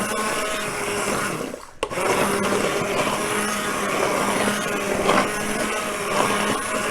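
A blender whirs steadily as it purees tomato soup smooth, a loud, continuous grinding roar with a brief dip and jolt early on before the motor surges back and runs evenly to the end.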